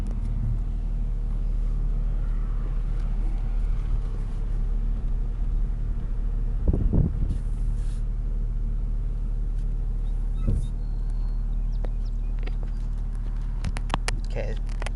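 A Jeep Grand Cherokee with a 4L engine idles low with a misfire: a steady, deep engine rumble with a couple of uneven thumps and stumbles partway through, heard close up inside the vehicle.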